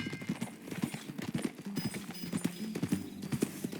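A horse's hooves clip-clop at a steady trotting rhythm on a road in the Red Dead Redemption 2 video game, fairly quiet and continuous, with no speech.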